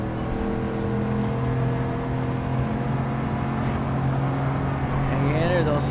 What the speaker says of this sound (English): I'm driving a Camaro